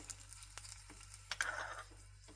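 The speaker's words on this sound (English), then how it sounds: "You can hear that sizzling sound, right?" Curry leaves and spices sizzle in hot tempering oil, a soft crackling hiss that swells into a brighter burst midway, quiet and close with no talking.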